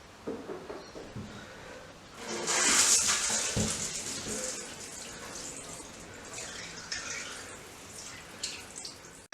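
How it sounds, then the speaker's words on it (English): Water hosed over shower glass before restoration, a quiet spray that swells into a brief louder splash then settles into softer trickling and dripping. "it's just a very quick hose off with some water before we start the renovation process"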